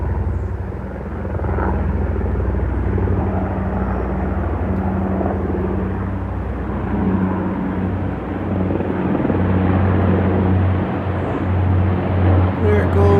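An army helicopter passes overhead, a loud, steady rotor-and-engine roar with a low thudding pulse that holds for the whole stretch, swelling slightly near the end, with faint voices underneath.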